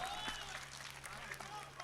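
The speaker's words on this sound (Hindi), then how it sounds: "अब ताली बजा दें इनके लिए।" Audience at a poetry event in Gadaura clapping in a short, steady burst of applause, moderately distant and filling the whole moment.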